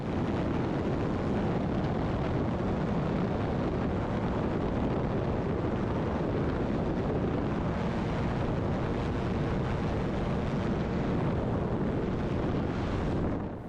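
Small aircraft taking off from Burnet, a steady loud roar of engine and rushing wind that fills the whole span without pause, with no talking.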